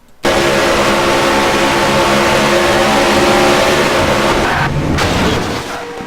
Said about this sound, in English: we're actually just going to ride inside Steven Gonzalez's car and listen